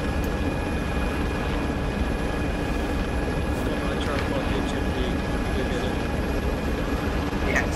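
A helicopter landing in the military game Arma 3, a loud continuous rotor and engine roar filling the scene, with voices talking over it.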